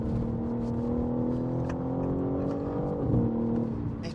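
A BMW M3 Touring's inline six engine and exhaust hold a steady, loud, droning rev with a smooth sustained tone, swelling briefly near the end as the pitch dips, with no talking.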